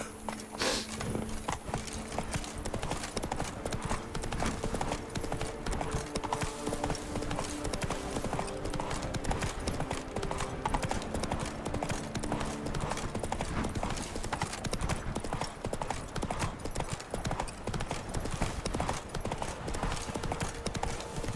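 Roach the horse trots along in The Witcher 3: Blood and Wine, hooves clip-clopping in a steady rapid rhythm throughout, with game sounds and some talk underneath.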